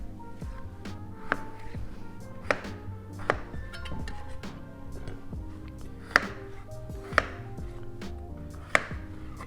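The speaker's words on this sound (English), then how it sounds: "So then the potatoes, we're just going to cut into even sized pieces" A knife cuts potatoes into even pieces on a board, a series of sharp, close chops at an irregular, unhurried pace, with quieter scraping and handling between the strikes.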